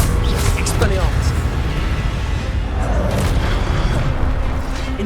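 Fire and disarming spells cast in the Hogwarts Legacy video game, loud continuous booming combat effects with whooshes and bursts, heavy and dense throughout with no clear pauses.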